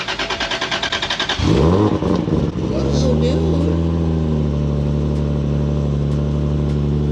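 A 2JZ engine in an A90 Toyota Supra idles with a loping rumble, then revs up hard and settles into a loud, steady drone, with a brief exclamation from a person over it.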